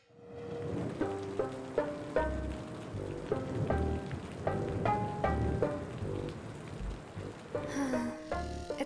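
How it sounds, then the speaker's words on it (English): Soft rain patters steadily in the background beneath gentle melodic notes, rather quiet overall. "It's raining"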